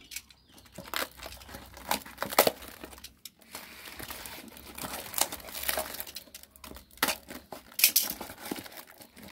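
Packaging is crinkled and torn open while unboxing motorcycle parts for a two-stroke Ninja engine build, giving close, irregular bursts of plastic and paper rustling with short pauses between handfuls.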